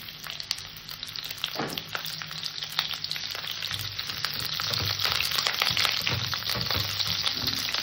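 Cauliflower florets sizzle steadily in plenty of hot oil in a wok, a dense close crackle that grows slightly louder partway through, with a few scraping stirs and no talking.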